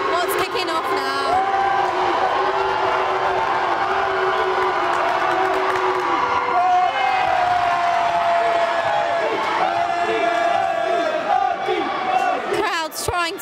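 A crowd at a varsity men's basketball game cheers and yells continuously, loud and roaring, with whoops and scattered shouts, while commentators talk over it.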